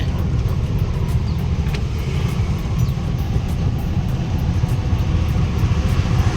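An auto rickshaw on a Bangalore road, its engine running slowly in fourth gear, gives a steady low rumbling drone that holds at an even level throughout, with no voices.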